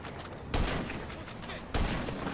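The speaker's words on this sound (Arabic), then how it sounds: "انفجار رائع" A car blowing up in a clown-and-Spider-Man game scene, two heavy booming blasts about a second apart over a constant loud crackling roar of fire.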